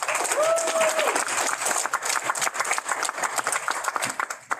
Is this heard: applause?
yes